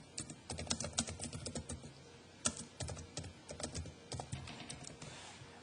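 Rapid typing on a computer keyboard while markdown text is edited, with dense irregular bursts of clicky keystrokes, a short pause near the middle, then more runs of taps, close and fairly quiet with no talking.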